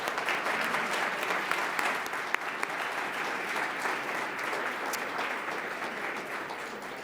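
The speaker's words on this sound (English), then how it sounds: "Let's have a round of applause for them." Audience applause fills a hall at a Columbus Metropolitan Club forum, a steady, dense wash of clapping that holds evenly throughout with no talk over it.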